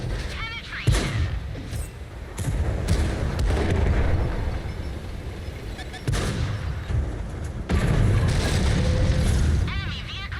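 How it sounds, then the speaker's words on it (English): Gunfire and heavy booms of a video game vehicle battle ending with an enemy vehicle destroyed, loud and steady through the clip with bursts of stronger blasts, while voices and game chatter run underneath. "Enemy vehicle destroyed."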